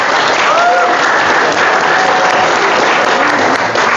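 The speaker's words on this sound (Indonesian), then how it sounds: "Tepuk tangan dulu buat Fadlan." An audience at a university discussion event applauds steadily for a participant, a dense, continuous wash of clapping that fills the whole span at a loud, even level, with a faint voice briefly audible underneath.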